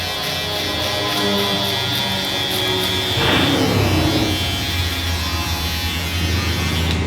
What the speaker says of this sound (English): a little bit of my shaver, very light, to make sure my bottom line is fairly out of there.